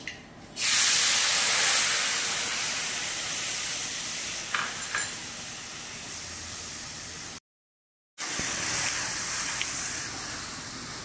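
Spice paste going into hot oil already tempered with dried red chili and panch phoron sizzles loudly in a steady, hissing wash that runs nearly unbroken, with a brief gap partway through.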